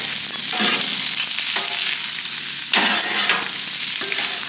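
Meat frying in a pan for breakfast tacos while salt, garlic and black pepper are stirred in: loud constant sizzle broken by several scraping stirs, close up and without speech.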